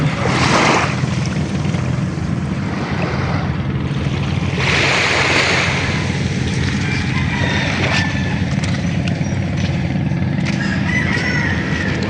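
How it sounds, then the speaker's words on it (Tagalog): Gentle surf washes along a calm beach in a steady, continuous wash, with a couple of brief louder swells and a rooster crowing faintly in the background. "Ayan po at sobrang tahimik ng dagat."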